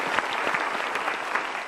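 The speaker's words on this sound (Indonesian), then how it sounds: "Kita berikan tepuk tangan dulu" Applause from a seated audience at a motivational talk, steady dense clapping from many hands throughout a short stretch, fairly even in loudness with no voices on top.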